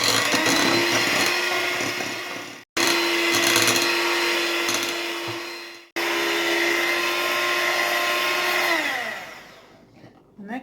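A handheld electric mixer whips cream with water in a bowl, a steady high whir running in three long bursts with brief stops between, then winding down and fading out at the end.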